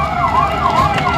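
A fire engine siren wails loudly and continuously at a civil defence air-raid rescue drill, its pitch sweeping up and down in regular cycles against a steady background rumble.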